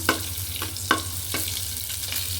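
Bread pieces for bread upma toast in a hot pan with a continuous soft sizzle, broken by several sharp scraping stirs at irregular intervals.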